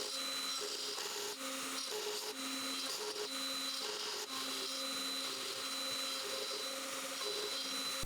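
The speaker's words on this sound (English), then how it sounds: "then cut that out on the CNC" A CNC router carving dense Jarrah wood, cutting out bird feet and beak shapes: a continuous whining machine drone with a steady high hiss and rhythmic pulsing tones as the bit moves along its path.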